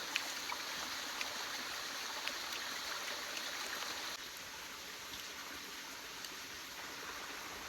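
Water in a natural creek flows with a steady, broad rushing wash and no distinct splashes, holding an even level throughout with no voices.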